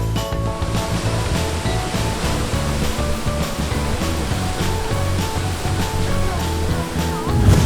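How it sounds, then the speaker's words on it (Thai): Rushing water pours steadily at Tham O waterfall in Mueang Khong, a broad, continuous roar of cold falling water that stays loud and even throughout with no voices. "ถึงแล้วตอนนี้นะครับอยู่ที่น้ำตกถ้ำอ้อ"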